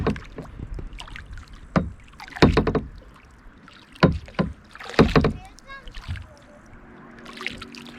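Kayak paddling on a slow, lazy river: soft paddle strokes and light water splashes recur irregularly, close by, with a person talking over them.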